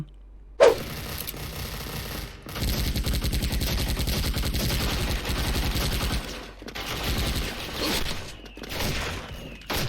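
Rapid bursts of UZI submachine gun fire from the video game Special Force (SF), loud and close, long sustained volleys with brief pauses between them.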